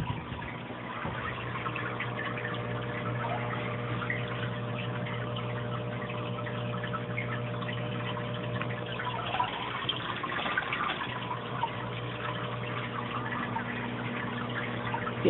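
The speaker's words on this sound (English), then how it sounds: "I'm pretty sure that's the drip from the bioballs." Water drips and trickles steadily from the bioballs in an aquarium sump fed by an Eshopps PF 1000 overflow box, with a temporary pump humming underneath. The sound is continuous and close, with no talking.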